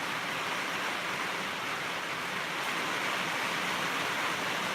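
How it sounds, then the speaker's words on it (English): Heavy pouring rain makes a dense, uniform hiss that stays steady and fairly faint throughout, with no other sounds standing out. "it's pouring rain."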